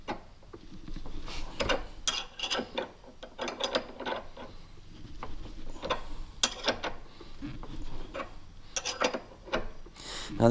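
An air impact wrench works on the crank gears of a VW Type 1 engine crankshaft, giving bursts of harsh metallic hammering and ratcheting clatter, close and loud, separated by short pauses.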